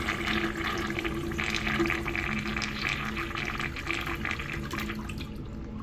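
A Zurn washdown urinal flushes, water rushing and splashing steadily through the bowl at close range for several seconds before cutting off abruptly at the end.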